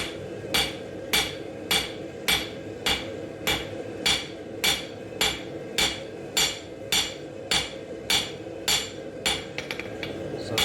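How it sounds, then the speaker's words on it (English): A hammer rings against metal on an anvil in a steady rhythm, about twenty sharp, bright strikes spaced evenly, close and loud, half on the anvil edge flattening metal into a plate. "my hammer is going to be half on, half off the anvil. And I'm going to be hitting down."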